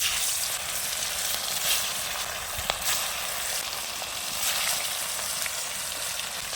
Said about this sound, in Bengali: তেলটা কিন্তু গরম হয়ে গেছে এবার আমি মাছগুলো দিয়ে দেবো